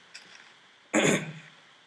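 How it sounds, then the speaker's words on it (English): A single short, harsh cough rings out sharply after a quiet moment, close and fairly loud, then fades into silence. "Sorry guys for a little bit of a cough."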